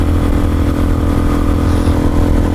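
Suzuki DRZ-400SM single-cylinder motorcycle, which has a sticking gear shifter, runs steadily while being ridden, a close, loud continuous engine drone with a throbbing low rumble and no speech.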